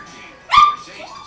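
A dog in a house gives a single sharp bark or yelp, loud and close, over a faint steady background.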